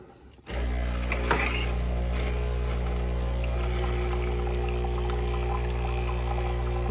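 A coffee maker with separate water and steam buttons dispenses hot water in a steady, continuous hum and trickle, starting abruptly after half a second of quiet and running evenly at close range with no talk.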